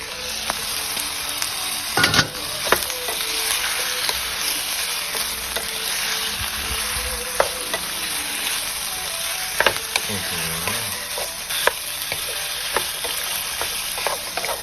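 Pork stir-frying in a pan for a Thai mixed-vegetable stew, a steady close sizzle broken by scattered clicks and scrapes of a utensil against the pan, with no talk.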